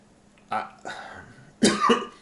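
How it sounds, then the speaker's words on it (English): A few sharp coughs, close and fairly loud, in quick bursts with short pauses between them. "I'm coming down with a cough or a flu or something."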